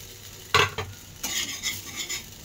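Kothimbir vadi, coriander fritters made with mixed lentils, frying in oil, with a soft steady sizzle and a couple of sharp utensil scrapes and clinks near the pan.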